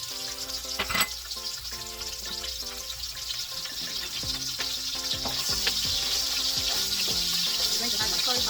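Onions frying in oil in a pan for shrimp fried rice, a continuous bright crackling sizzle that grows slightly louder, with a few utensil knocks.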